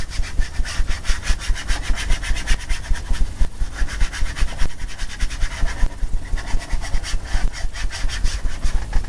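Steady rhythmic scrubbing of a brush working paint over a dry painting of mallard ducks at a lake, a continuous close, fairly loud back-and-forth rasping with no talk.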